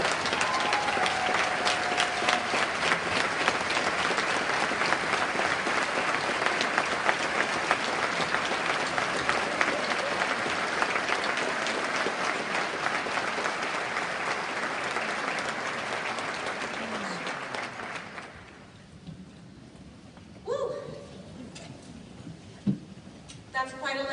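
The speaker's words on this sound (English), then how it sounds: "I say she deserves one last final round of applause from the place that she called home" A school convocation audience for Edgewood ISD gives a long, sustained round of applause, dense clapping that holds for most of the stretch before dying away, followed by a few scattered sounds and faint voices.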